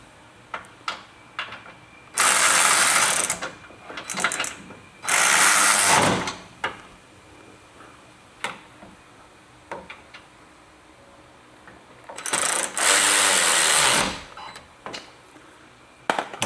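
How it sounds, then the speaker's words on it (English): A ratcheting wrench tightens screws in a tight spot, giving rapid clicking bursts that come in several loud spells separated by quieter taps and handling clatter, with no talk. "So a ratcheting wrench is best"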